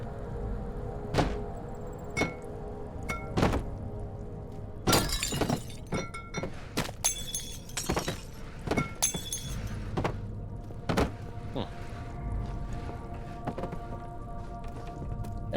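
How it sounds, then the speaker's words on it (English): Wine bottles shatter in the Amnesia video game, a series of sharp glass smashes and crashes spread irregularly, some in quick clusters, with clinking debris and thuds between them. "I'm going to destroy the wine so that John can drink no more"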